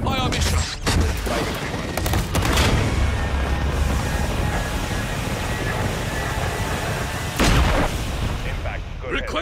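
Artillery fire mission strike in the video game Modern Warfare 3, heavy booming impacts and rumbling blasts layered with mechanical noise, with voices talking over the barrage.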